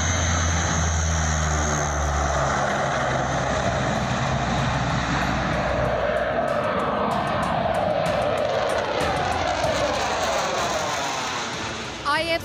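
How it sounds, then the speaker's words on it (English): An Indian Air Force heavy-lift transport aircraft passes with a loud, sustained engine drone and propeller roar, its pitch sweeping as it moves past on approach to an expressway airstrip, with a voice talking over it. "The Prime Minister will be on board this IAF heavy lift transport aircraft that will land on the Purvanchal Expressway on Tuesday."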